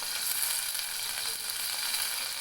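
Chopped tomatoes and curry leaves hit a hot pan of oil for boiled egg fry, producing a steady, bright sizzling hiss that carries on evenly with no voices.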